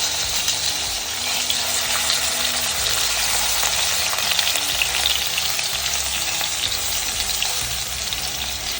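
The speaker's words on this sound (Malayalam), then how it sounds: "ചൂടാവുമ്പോൾ നമുക്ക് മീൻ വറുത്തെടുക്കാം." Fish shallow frying in hot ghee in a pan, a steady loud sizzle and crackle that holds without a break from start to finish, with no voices.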